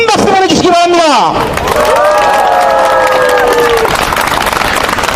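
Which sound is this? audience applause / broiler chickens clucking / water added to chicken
audience applause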